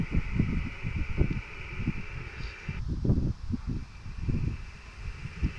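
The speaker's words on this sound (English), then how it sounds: "the wind is coming from the southeast right now" Wind gusts through trees on a windy afternoon, with low rumbling buffets of air and rushing noise rising and falling in steady surges, fairly loud and close, with no voices.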